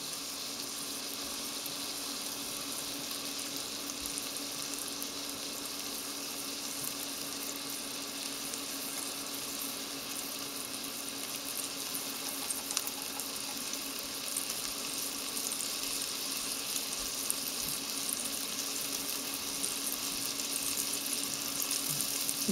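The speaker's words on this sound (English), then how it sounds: "remember to let the meat sit in the pan for a while. Don't have to touch it right away, just let it cook" Beef strip steak searing undisturbed in a hot pan, giving a steady, even sizzle that runs unbroken throughout with no voices.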